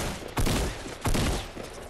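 Two heavy bursts of video game gunfire during a shootout, each a loud crack followed by a rolling decay, over a dense, noisy battle backdrop.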